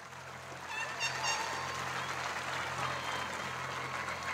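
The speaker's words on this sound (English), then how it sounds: "Please give these students a round of applause." A crowd at a high school graduation ceremony gives sustained, even applause that fills the whole stretch at moderate distance, with no talk over it.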